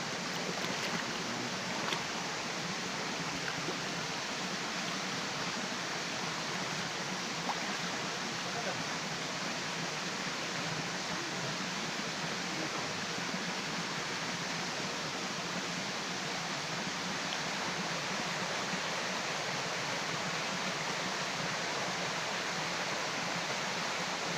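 A freshwater river flows steadily where fish are being caught with a net. A broad, even rush of water fills the whole stretch at a constant level, close and continuous, with no distinct events standing out.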